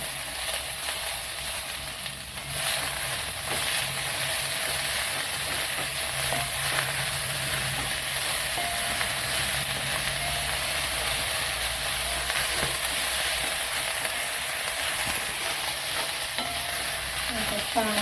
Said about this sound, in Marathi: आता आपण त्यामध्ये थोडीशी कोथंबीर परतून घेऊ